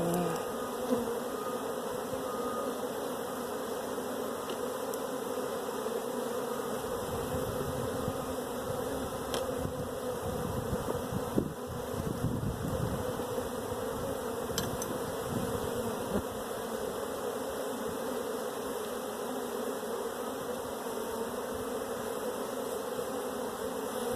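Honeybees buzz steadily around open hives during a brood inspection while boxes are added in a queen-rearing yard, a dense close drone that holds throughout, with a few brief handling knocks near the middle.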